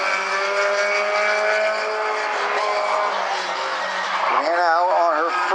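Midget race car lapping the small oval South Sound Speedway during Northwest Focus Midget Series qualifying, engine droning loudly and steadily with rising and falling pitch as it works through the turns, under continuous announcer commentary.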